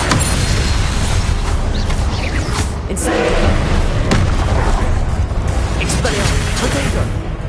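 Confringo fire spell blasts in Hogwarts Legacy, a loud, dense barrage of booming explosions and crackling bursts, with a voice calling out over the continuous spell effects.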